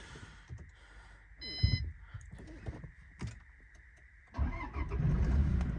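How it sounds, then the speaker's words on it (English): A 229,000-mile Toyota Hilux with a clutch cranks and catches, its engine firing up and settling into a loud, rough idle close by after a few beeps. "There we go, and she still starts. Good old Hilux."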